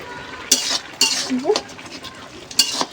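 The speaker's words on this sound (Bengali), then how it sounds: "শাকটা নেড়ে দেব" Leafy greens and potatoes are stirred in a pan over a wood fire, with several sharp utensil scrapes and clinks against the metal over a faint sizzle, and a voice speaks briefly.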